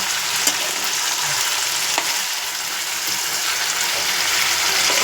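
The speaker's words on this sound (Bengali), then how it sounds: "এবারে এই চিকেনটাকে দিয়ে দেবো। চিকেনটা আগে ফ্রাই হয়ে যাক এর সাথেই।" Chicken pieces fry in a pan with a loud, continuous hissing sizzle that holds steady throughout, a few small taps of a utensil underneath and no voices.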